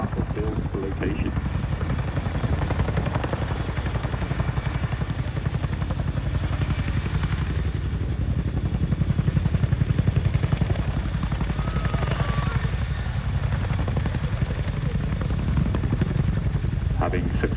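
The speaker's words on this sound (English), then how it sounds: "Coops will manoeuvre the aircraft forward and down away from the load" A military helicopter hovers and manoeuvres during an airshow display, lowering a gun load near a Land Rover, its steady loud rotor and engine drone continuous and swelling slightly midway, with a commentator talking over it.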